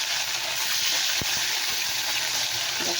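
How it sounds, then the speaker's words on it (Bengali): Fish pieces frying in hot oil in a pan, a steady loud sizzle and hiss running continuously up close, with a couple of faint knocks, no talking. "আমি কিন্তু এখন মাছটা ভাজছি।"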